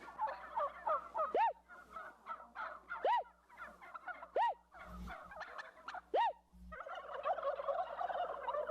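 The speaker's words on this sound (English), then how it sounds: "Gobbling in Kennewick" Several turkeys gobble loudly in quick, rippling bursts, repeated every second or two, with softer clucks and calls between them and a faint low hum underneath.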